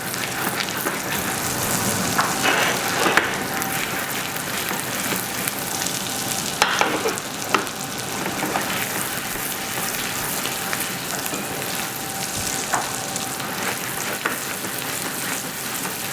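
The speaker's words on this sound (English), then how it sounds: "We don't want that the butter is burning, just gently move the pan always." Pike fillets glazing in butter in a pan kept gently moving, a steady close sizzle and fry running throughout with occasional scrapes and clinks of the pan, no talking.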